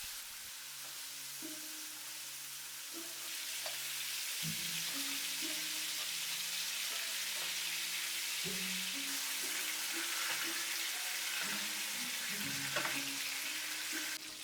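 Chicken pieces with skin fry in a pan with garlic and light soy sauce, making a broad steady sizzling hiss that grows louder after a few seconds, with faint tonal hum and occasional soft clatters.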